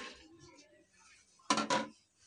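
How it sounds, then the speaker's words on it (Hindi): Black chickpeas tumble into a metal pressure cooker in a close, rattling rush of two quick bursts, following someone speaking softly in Hindi. "ये मैंने कुकर लिया है, चने मैं कुकर के अंदर डाल दूंगी"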